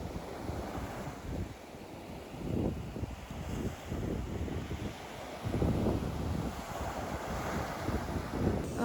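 Atlantic ocean waves wash onto a Space Coast beach near Melbourne, Florida, a continuous rolling surf roar mixed with gusty wind buffeting the microphone, with no voices.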